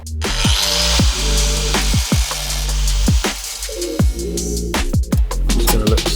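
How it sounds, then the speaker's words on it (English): A power tool whines at close range while cutting a custom tailpipe on a Porsche 356. The pitch drops in repeated swoops as the tool loads up and spins down, about once a second, with metallic ticks between. "Then what I'll do is I'll hand cut it and that will take the tack away"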